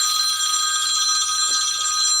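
A telephone rings with a steady, sustained high electronic tone that fills the whole moment, with faint background noise underneath.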